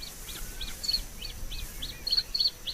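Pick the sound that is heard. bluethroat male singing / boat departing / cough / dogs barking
bluethroat male singing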